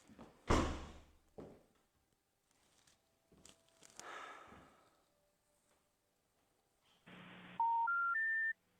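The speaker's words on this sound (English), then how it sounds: "Let me try Michael on the phone." A telephone handset is picked up with a few clunks and some rustling, then near the end a short run of rising dial beeps sounds clearly in a quiet room.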